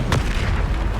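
A Bombarda spell blast in the Hogwarts Legacy video game, a single loud, booming explosion with a sharp burst at the start and a rumbling low tail, close and alone.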